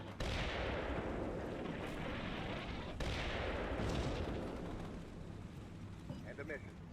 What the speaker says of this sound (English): Our 105mm artillery helps keep Blue Force heads down while we try for firepower